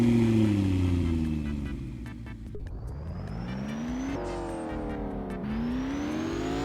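A McLaren MP4 engine in the Driving Empire video game revs up repeatedly, its pitch climbing, dropping at each shift and climbing again, loud and close with no talk.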